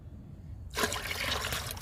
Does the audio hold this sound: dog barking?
no